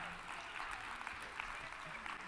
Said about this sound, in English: I really want to give a round of applause for the OIE team